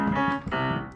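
A short jazz piano etude passage is played as written, with a few sustained chords and note attacks sounding close and clear over about a second.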